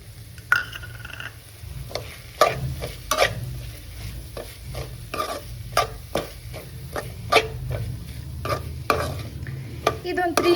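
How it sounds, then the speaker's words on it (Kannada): Chopped cabbage is added to a pan and stir-fried for South Indian style fried rice, a low frying hiss beneath frequent sharp clacks and scrapes of the spatula against the pan, fairly close, with no talking. "ಈಗ ನಾನು ಕ್ಯಾಬೇಜನ್ನು ಆ್ಯಡ್ ಮಾಡ್ತಾ ಇದ್ದೀನಿ."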